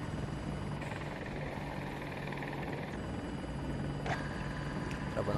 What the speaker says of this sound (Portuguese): Tem um helicóptero atacando você.